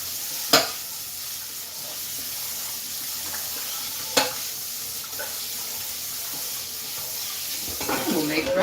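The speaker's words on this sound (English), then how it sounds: "I'm going to wash the frying pan quickly. A little rinse food." A frying pan is rinsed under a running kitchen tap, giving a steady hiss of water with a couple of sharp clanks of the pan against the sink, close and alone.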